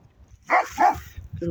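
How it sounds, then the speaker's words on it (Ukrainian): A neighbour's dog barks twice in quick succession, fairly loud and close, beside a vineyard garden where conifers are being trimmed, with a person talking around the barks. "Зараз знову сусідська собака почне гавкати."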